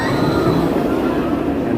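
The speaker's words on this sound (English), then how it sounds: "we did soon after see, I believe it was the blue train taking off" At the Wonderland amusement park, a blue ride train pulls away, giving off a loud, steady rolling rumble with faint metallic squeal throughout.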